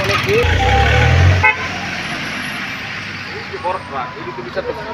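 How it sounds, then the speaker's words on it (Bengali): A big truck on the historic Grand Trunk Road in Sonargaon gives a loud, close horn blast lasting about a second over engine rumble, then rolls on as traffic noise continues, with people talking throughout. "বড় ট্রাক"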